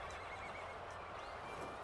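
A war horse in the video game Dynasty Warriors: Origins whinnies faintly over steady clip-clopping hooves and a low rumbling battle din, the neigh rising briefly midway.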